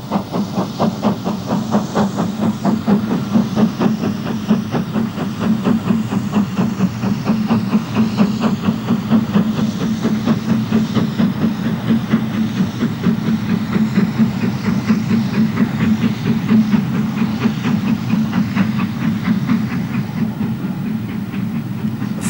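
GWR steam locomotives City of Truro and King George V work together on a rail tour just south of Shrewsbury, giving a loud, steady hiss of steam with a fast, continuous chuffing beat and rail clatter throughout.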